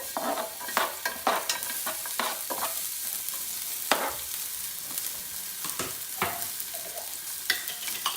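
Onions go into a little olive oil in a pan and fry with a soft, quiet sizzle, broken by scattered scraping and clicking stirs of a utensil; no one speaks.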